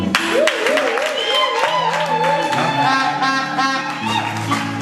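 A wedding congregation at a nuptial blessing applauds steadily throughout, with a high, wavering voice ululating or singing over the clapping.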